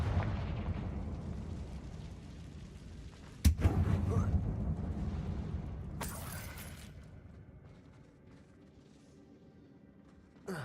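A Confringo spell explosion in Hogwarts Legacy lands as a sharp, loud blast with a debris crack, followed by a second burst and a fading rumble. A near-silent tail trails off afterward.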